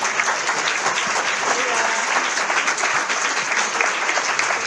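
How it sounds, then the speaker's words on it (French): Audience at a plenary session of a conference in Reims applauds steadily, a dense, even wash of clapping that holds at full strength throughout, with no voices standing out. "je crois qu'on peut les applaudir"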